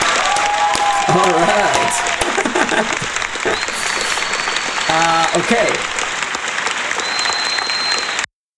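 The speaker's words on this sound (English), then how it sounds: "A big round of applause." Online English lesson audience giving a big round of applause, loud continuous clapping and cheering that fills the whole stretch while a person speaks briefly over it, then cuts off abruptly.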